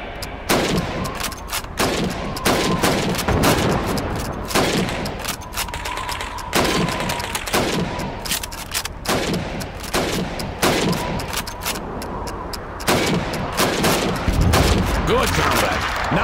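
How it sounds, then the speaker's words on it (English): Rifle fire on a training range in the video game Call of Duty 2 as helmets are shot, a loud run of repeated gunshots in quick bursts with echoing tails and short gaps between volleys. "You have 15 seconds to shoot the helmets."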